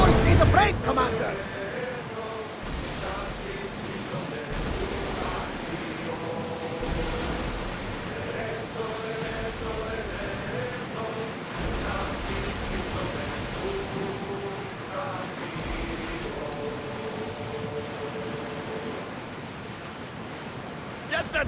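Rowers drive an oared warship across the open sea in Assassin's Creed Odyssey, with steady waves and wind washing beneath shouted commands and crew voices throughout.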